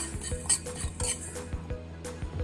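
Fenugreek (methi) seeds are dry-roasted without oil in a pan for mango pickle: a utensil scrapes and clinks against the pan in a steady stirring rhythm, close and moderately loud.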